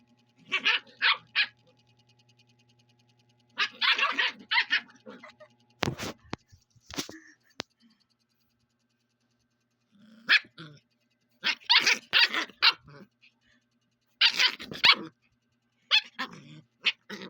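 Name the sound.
dog barking and growling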